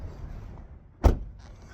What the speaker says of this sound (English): As soon as I close my truck door here.